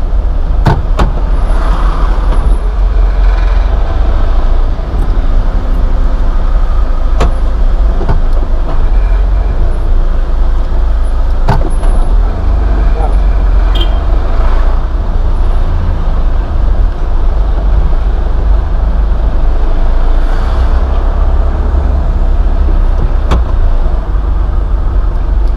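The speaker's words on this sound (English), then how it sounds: "See how much traffic there is up ahead, huh?" Road traffic passes in Port of Spain, Trinidad, a continuous loud rumble of engines and tyres heard from inside a moving vehicle, steady throughout with occasional clicks.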